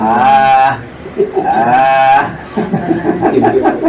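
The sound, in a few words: voice imitating a sheep bleating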